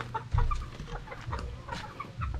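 Four-month-old stag roosters clucking close by, a loose series of short throaty clucks and murmurs from several birds, without speech.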